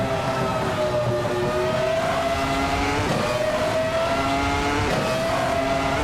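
Classic 1996 McLaren race cars at the start at Suzuka, engines droning steadily and loud with rising pitch sweeps as they accelerate, a continuous dense roar with no talking.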